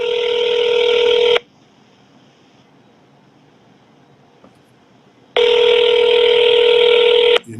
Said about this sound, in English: Let me see if I can get Spider-Man on the phone.